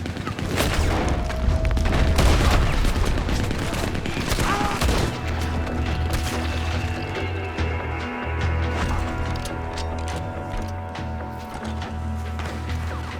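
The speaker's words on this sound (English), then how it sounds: "He's going for the Gatling! Look at... He's firing! Hell, that gun can shoot!" A Gatling gun fires in the Western video game Red Dead Redemption 2, producing dense rapid volleys of gunfire with booms and crashes. The volleys ring out over a low rumbling game soundscape.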